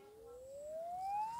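A Samsung Galaxy A52s phone earpiece receiver plays a test tone: a clean, thin whistle sweeping steadily upward in pitch, moderately quiet and alone.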